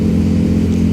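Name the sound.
motorcycle engine revving, Yamaha MT-09 SP or similar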